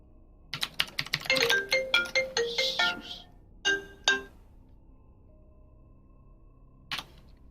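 A phone ringtone plays a quick run of bright electronic tones, then a short burst, and a single faint tone comes later after a pause, with no voices over it.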